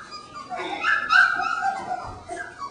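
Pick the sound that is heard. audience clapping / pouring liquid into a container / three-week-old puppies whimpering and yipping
three-week-old puppies whimpering and yipping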